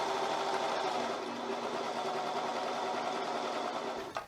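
A sewing machine runs steadily, stitching a seam on an ultralight Alpha Direct fleece hoodie, its fast even whirr continuous and close for about four seconds before stopping abruptly.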